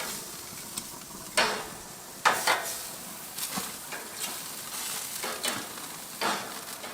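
Scallop skewers sear on a barbecue grill with a steady, close sizzle, broken by occasional clicks and scrapes as they are handled, with no talking.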